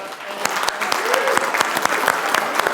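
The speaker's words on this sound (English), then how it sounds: "how about a round of applause for Erica" Audience applause at a bus conference, a steady wash of clapping from a crowd lasting a few seconds with sharper individual claps standing out, while faint voices murmur underneath.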